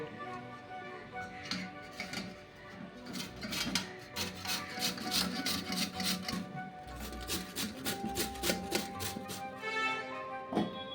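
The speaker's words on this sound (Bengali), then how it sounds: "এবার এটাকে গ্রেট করে নেব" Two medium-sized potatoes being grated for aloo pakora: a steady rhythmic rasping of potato scraped across a grater, close and fairly quiet, repeating in quick strokes with no talk over it.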